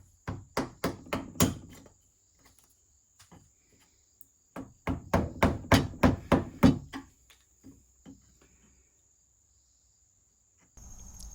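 Two bursts of sharp metallic hammer blows on a workpiece held in a vise, in quick, even rhythm, about eight strikes each, separated by a quiet pause with a few lighter taps.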